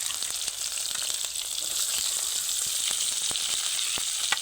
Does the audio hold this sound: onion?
yes